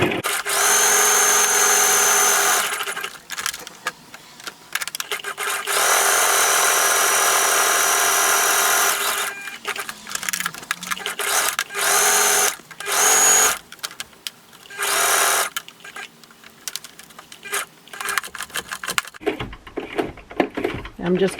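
A sewing machine stitching around a skirt cuff, running in long steady whirring bursts with pauses between, loud and close, while a person talks in the gaps.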